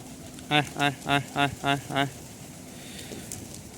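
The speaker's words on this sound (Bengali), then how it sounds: "এই যে আমার কবুতর" Six evenly spaced, rising coos from a pigeon sound close by in a quick rhythmic series, followed by quiet background hiss.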